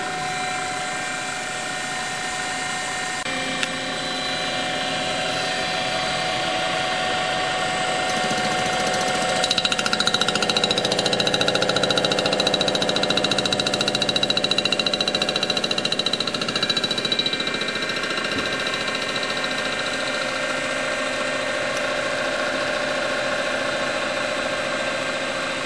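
A resurfacing machine mills a cast iron Chrysler/Dodge V-6 cylinder head, producing a continuous, steady mechanical drone with a droning tone that swells slightly midway through, heard alone for about twenty-five seconds.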